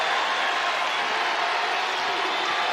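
Basketball arena crowd at an NCAA women's second-round game, Notre Dame versus Mississippi State, swelling into a loud, steady roar of many voices with no breaks.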